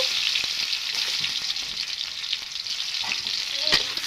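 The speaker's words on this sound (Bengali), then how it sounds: "পেঁয়াজটাকে ভাজি নেব" Chopped onions and bay leaves frying in hot oil give a continuous crackling sizzle, with occasional scraping stirs and taps of a utensil.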